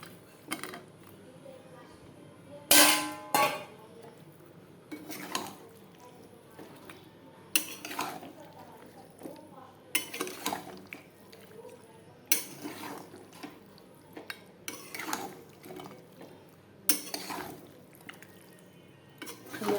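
Mutton and potatoes are stirred in a pot, giving quiet scrapes and sharp metallic clanks of a spoon against the pot every few seconds, with a voice speaking now and then between them.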